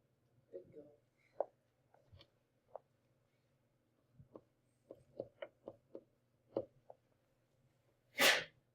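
A single sharp sneeze bursts out near the end of a classroom maths lesson on parabolas, following scattered soft taps and quiet movement noises.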